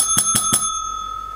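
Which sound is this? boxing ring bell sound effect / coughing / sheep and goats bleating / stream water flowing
boxing ring bell sound effect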